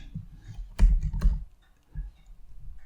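Keys click on a computer keyboard while a Word document is edited, a few quiet taps and a louder cluster of strokes close by, separated by short pauses.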